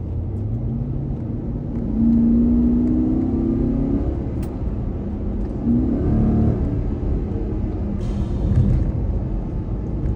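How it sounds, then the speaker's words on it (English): A 2013 Porsche Cayenne GTS engine revs up and pulls through rising gears, a close, loud rumble with whirring pitch sweeps over about ten seconds. "I'm gonna leave that part in, that little acceleration run, because man, it sounds like a dream"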